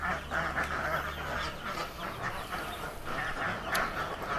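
Ducks quacking beside a small duck pen, a steady, fairly faint chorus of overlapping quacks and honks from a flock, heard without talking.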